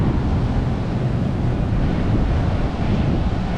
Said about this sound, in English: some big waves. You can probably hear those crashing in.